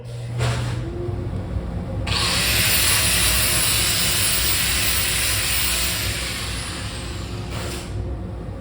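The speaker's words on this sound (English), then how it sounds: "I got to grind for 1 second here." An angle grinder shrieks against metal on a small steampunk tractor model, a loud sustained high-pitched grind of about five seconds, with short bursts before and after.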